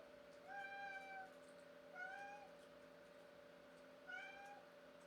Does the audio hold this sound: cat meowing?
yes